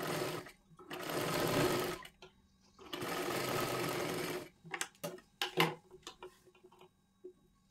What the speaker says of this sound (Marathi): इथे शिलाई मारून घ्यायची आहे, ती वरच्या बाजूला आपल्याला काढायची आहे